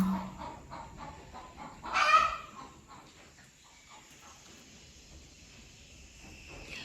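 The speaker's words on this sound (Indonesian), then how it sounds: "Maaf ya suara ayam, aku juga gak tahu itu ayam siapa," A chicken clucks and squawks nearby in a home setting, with one louder burst in the middle among softer scattered calls over a quiet background, and no talk.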